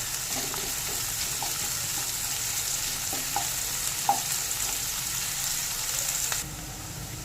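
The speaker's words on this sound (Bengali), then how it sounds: "এবার পেঁয়াজটা নেড়ে ভেজে নেব" Continuous sizzling of onions frying in oil, with scattered soft scraping as they're stirred; constant and fairly close, no talking.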